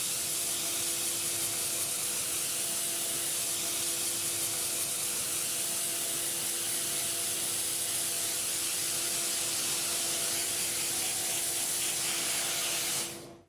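A steam spotting gun hisses steadily as steam is forced through textile to lift mascara stains on a suction table, a loud, unbroken spray lasting about thirteen seconds before cutting off abruptly, with a faint hum beneath and no talking.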